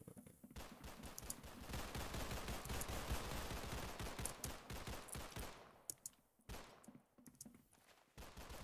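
Rapid pistol gunfire in the Roblox game Arsenal, with bursts of sharp shots packed densely together that pause briefly and then resume.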